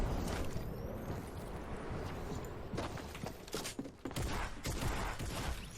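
Rapid bursts of gunfire from the Fortnite battle royale, version 10.20, crackle in irregular volleys over a dense, noisy game mix, with sharp cracks clustering in the second half.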